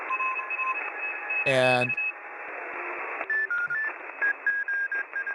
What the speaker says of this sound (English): we're going to slide over to the Morse code part of the band